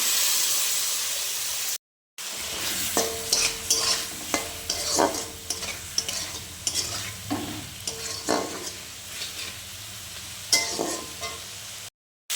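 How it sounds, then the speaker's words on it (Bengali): Turmeric and chilli masala being stirred in a pan for tengra fish curry with potato and tomato: close, busy sizzling and hissing with repeated spatula scrapes and taps. "ভালো করে নাড়িয়ে নেব"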